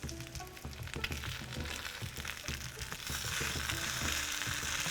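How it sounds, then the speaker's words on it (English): Okonomiyaki sizzles in a pan while a spatula works under it to flip it, with steady close frying crackle, scattered scraping taps, and the hiss growing brighter and louder toward the end. "I'm gonna do my best to try and flip it with a spatula"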